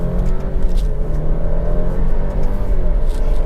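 High-mileage 2018 Alfa Romeo Stelvio accelerating hard in sport mode, shifting through its eight gears with the paddles: a loud, steady engine drone with a rising rumble heard from inside the cabin.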